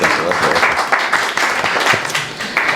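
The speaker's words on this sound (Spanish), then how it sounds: "Un aplauso, ¿no?" An audience at a philosophy lecture breaks into applause, a full, steady patter of many hands clapping at close range for a few seconds with no speech over it.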